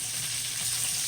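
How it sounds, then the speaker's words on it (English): Peppers and onions sizzle steadily in a hot pan over lowered heat, a close, continuous frying hiss with no pauses or voices. "I'm going to go ahead and put my peppers and onions in."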